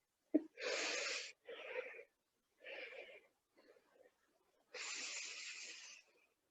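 Deep breaths during a yoga class, heard as slow, breathy inhales and exhales with hissy, wheezy airflow, close and soft, separated by short silences.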